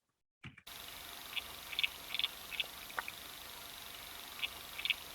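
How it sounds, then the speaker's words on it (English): A water boatman stridulates underwater in a bathtub, producing faint, eerie bursts of tiny high chirps in small irregular clusters over a low murky background hiss. "of water boatman was capable of producing sound with more acoustic energy than 227 marine and terrestrial mammal species"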